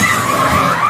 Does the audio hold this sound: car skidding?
yes